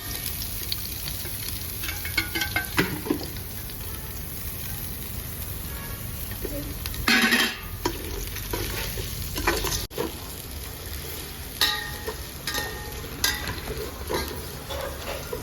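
Onions and green chillies fry in oil in a pot, a continuous close sizzle with intermittent scraping stirs and occasional louder spatters, without talk.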